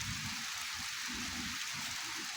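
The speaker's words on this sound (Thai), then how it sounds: "ฝนมาแล้วพี่น้องเอ้ย" Rain falls steadily at a rural homestead beside an unfinished chicken and duck coop, making an even, continuous hiss with a faint low rumble and no pauses.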